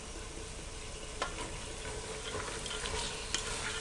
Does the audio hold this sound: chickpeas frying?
yes